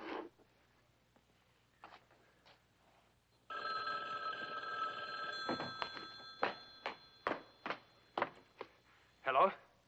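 A telephone bell rings in a 1960 Boris Karloff Thriller episode, a sustained ring followed by a series of short repeated rings, with faint voices talking early on.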